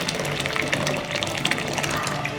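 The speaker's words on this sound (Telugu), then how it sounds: "ఇప్పుడు ఇందులో వాటర్ యాడ్ చేసుకోవాలి." Water pours into blended buttermilk, a steady close splashing and gushing that runs without a break for a couple of seconds.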